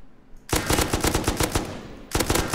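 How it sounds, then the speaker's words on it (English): An M249 machine gun fitted with a muzzle brake fires in the video game Rust: two sharp, loud, rapid bursts of evenly spaced shots, separated by a brief pause. "I'm just trying to show you how steady the M249 actually is with the muzzle brake"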